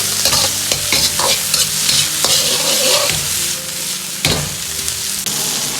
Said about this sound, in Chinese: 快速的翻炒均匀，炒出香味